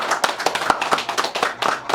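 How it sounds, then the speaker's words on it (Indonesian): Audience applause for members of a provincial legislative committee at a formal meeting, a dense run of hand claps with rhythmic bursts, loud and close, with no talk over it. "Sekali lagi kita berikan aplaus untuk beliau-beliau"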